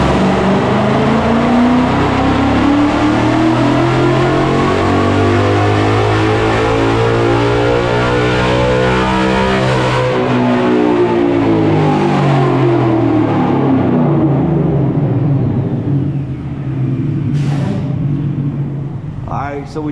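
A 2018-2023 Ford Mustang GT V8 fitted with a 2024 intake and dual throttle bodies revs loudly on a dyno, its pitch climbing steadily through a long pull before cutting off and winding down.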